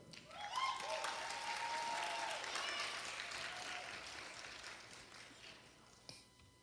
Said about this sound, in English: y'all give a wonderful round of applause for the Wonderfully Made Dance Company